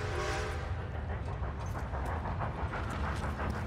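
A train approaches in the video game Red Dead Redemption 2. Its loud, continuous rumble and hiss of steam build steadily, with rhythmic clatter surfacing over dense broadband noise and no talk.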